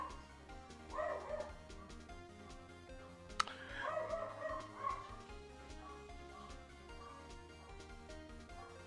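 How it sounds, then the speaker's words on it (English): Dogs bark in two short bursts a few seconds apart, muffled and set back under steady background music, with a sharp click between the bursts. "The dogs must have seen a squirrel."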